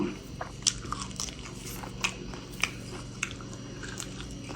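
Someone eating mint chocolate up close: crisp crunchy bites at irregular intervals with soft chewing in between, close and moderately quiet, no talk.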